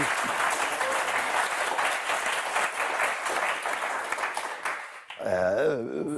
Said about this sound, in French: on va applaudir Christelle et Michael aussi